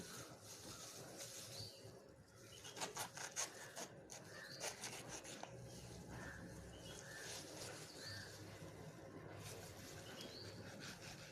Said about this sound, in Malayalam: ഇത് ഓരോ പീസാക്കി ഇങ്ങനെ ആദ്യം കട്ട് ചെയ്തിടുക